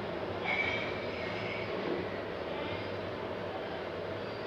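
An Iron Man electronic coin bank toy gives off a steady, rumbling whir like a passing machine, loud and unbroken for several seconds with no voices over it.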